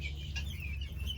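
Small flock of farm chickens kept with a fan nearby, giving soft, faint clucks and chirps over a low steady hum, brief and close.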